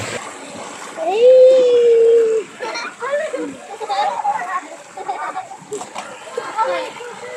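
Water splashes and sloshes in a swimming pool at a natural spring resort in Indang, Cavite, under loud excited voices of children and adults calling out nearby.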